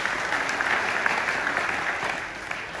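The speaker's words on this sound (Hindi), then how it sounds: "चाहूंगी इनके लिए जोरदार ताली।" A hall audience at a business awards ceremony claps loudly and steadily, a dense, even burst of applause heard alone.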